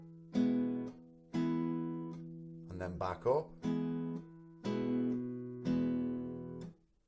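Plucked nylon-string classical guitar, fingerpicking a bass note on the sixth, fifth or fourth string with a three-note chord on the bottom three strings, repeated in separate strokes that ring and decay, with brief talking in the middle.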